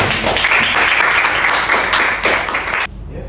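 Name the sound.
applause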